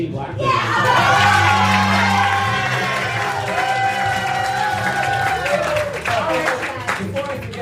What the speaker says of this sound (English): Round of applause for Christine Blackburn.